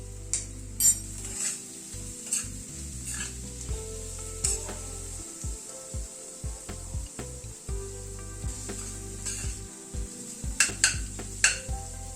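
Spice powder frying in a pan while a spoon stirs it, a capsicum curry underway; soft sizzle under repeated scraping and knocking strokes of the utensil against the pan, close and uneven in rhythm.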